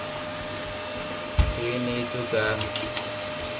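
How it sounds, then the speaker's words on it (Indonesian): A vacuum cleaner runs steadily while a solar power inverter is cleaned, giving a constant loud whining hiss with a few knocks and brief quiet speech over it. "Vacuum cleaner."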